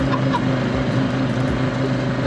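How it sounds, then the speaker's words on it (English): A straight-piped Land Rover Defender TD5 spins cyclones on a grass field in second gear, its diesel engine a loud, steady, throbbing rumble with a raw exhaust drone, close and unbroken for the whole moment. "Cyclones in a Defender on a grass field in second gear."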